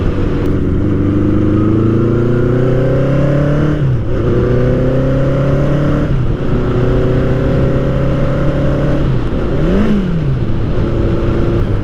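A Norton motorcycle being ridden at night, its engine loud and close, rising in pitch through each gear then dropping at the shifts, with a brief blip and drop near the end.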